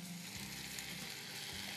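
Margarine frying in a pan with apricot jam for a pumpkin and coconut milk soup, giving a steady, close hiss of sizzling that runs unbroken for the whole stretch, with no talking.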